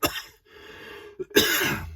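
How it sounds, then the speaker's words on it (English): A single harsh cough, then a brief pause and a second, heavier cough, close and loud. "Here's me coughing up a lung."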